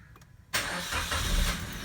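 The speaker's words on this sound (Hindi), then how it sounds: "गाड़ी सेल्फ मारेगी" Suzuki WagonR being started with the self-starter: a quiet moment, then an abrupt crank and catch as the engine fires up close by, settling into a steady running rumble.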